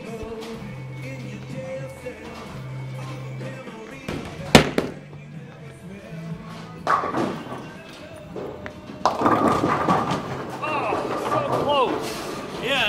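A bowling ball crashes into pins in a bowling alley, a sharp clattering impact mid-clip followed by scattered rattles and thuds, with people talking and background lane noise around it.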